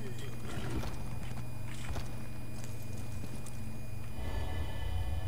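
Horse hooves clip-clopping in the video game Elder Scrolls Online, a rhythmic run of hoofbeats under a steady game soundtrack, moderately close, with someone talking over it.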